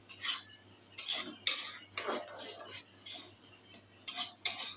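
A metal utensil scrapes and clinks against a pan while an egg fries at home, in short repeated bursts of scraping separated by brief pauses, close and fairly loud.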